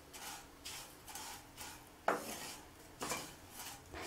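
Vermicelli roasts in a pan over a medium flame, stirred with soft, quiet scraping and light metallic clinks that repeat at a loose, steady rhythm, with no voices.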